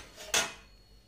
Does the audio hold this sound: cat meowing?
no